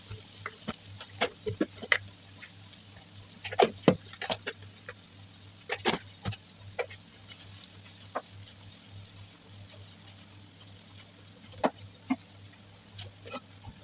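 Spiced chicken kottu is stirred and chopped in a frying pan with chili, turmeric, masala and salt, giving a soft steady sizzle broken by irregular sharp scraping clanks of the utensil, with no talking.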